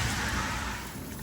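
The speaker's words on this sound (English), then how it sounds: "Yep, still raining." Steady broadband hiss of rain falling, a continuous wash of patter with no distinct voices, fairly close and even throughout.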